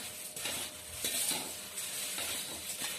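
Puffed rice chivda with peanuts and coconut slices being tossed in a pan, soft repeated stirring scrapes and light rustling over a faint sizzle, close but quiet with no voices.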